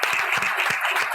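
A studio audience at a talk show gives a dense, brief burst of clapping that is moderately loud and continuous.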